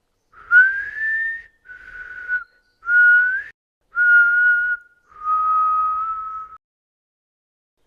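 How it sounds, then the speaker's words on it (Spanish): Five long, eerie whistled notes, some gliding upward, each held steadily with short silences between, clear and alone. "escucharon unos silbidos"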